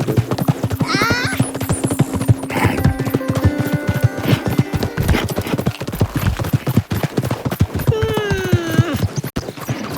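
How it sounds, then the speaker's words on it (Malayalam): Horse hooves clip-clopping in a steady rapid rhythm throughout, with loud whinnying neighs standing out near the start and again toward the end, close and prominent. "കുതിരയ്ക്കും വട്ടായി എന്നാണ് ഗൈസ് തോന്നുന്നത്"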